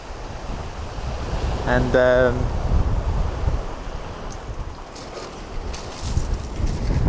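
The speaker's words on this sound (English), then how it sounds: "on the shore in Charmouth, trying to dodge the waves" Sea waves wash steadily onto the shore at Charmouth beach on the Jurassic Coast, a loud continuous surf roar with wind buffeting the microphone and a brief spoken word partway through.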